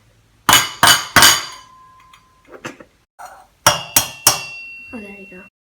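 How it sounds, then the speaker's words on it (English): An egg is tapped against a hard surface in two bursts of three sharp knocks, crisp and close, with a few softer clinks and brief muffled voice sounds between them. "I think I need to crack it a little more."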